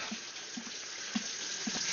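Water runs from a tap while a filter is rinsed, a steady hissing stream close by with faint splashes and knocks, no voices.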